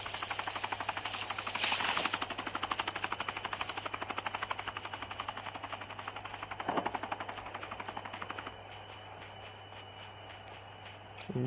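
A helicopter in a video game circles overhead, its steady chopping rotor pulse running throughout at moderate loudness, with a couple of brief louder bursts like gunfire near two and seven seconds.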